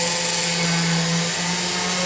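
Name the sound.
drill boring through a stone for a pendant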